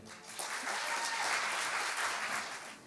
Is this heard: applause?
yes